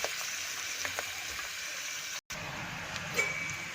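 Onion, tomato, potato and boiled chickpeas roast in a pan, giving a soft, steady sizzle and crackle with a few faint stirring clicks and one brief dropout.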